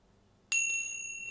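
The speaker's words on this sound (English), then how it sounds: "Use your hearing sense to really hear the chime and feel your body's response to it." A single chime rings out once during a reiki session, a bright metallic strike that lingers as a clear, sustained ringing tone, alone in a quiet room.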